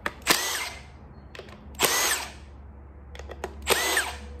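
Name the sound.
power tool unbolting Audi water pump flange with T30 bit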